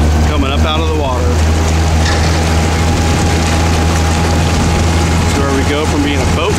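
An Amphicar amphibious car's engine hums steadily close by as it drives up out of the water, water splashing and sloshing around it; a voice talks briefly at times over the motor.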